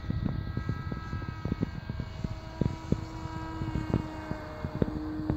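A 1.5 m flying wing RC plane runs its electric motor at full throttle, giving a steady, continuous buzzing drone with wind noise throughout.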